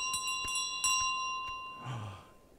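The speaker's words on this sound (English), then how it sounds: "Getting the bell back and dropping your bell in your home." A bell in Untitled Goose Game gives a few light, clear rings with a sustained tone, fairly faint, followed by a brief soft sound.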